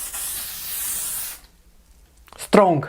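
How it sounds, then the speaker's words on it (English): A face setting spray mists in a steady hiss lasting over a second, close and fairly loud, followed by a quiet pause and then a person speaking. "this doesn't hug your face in a very uniform mist"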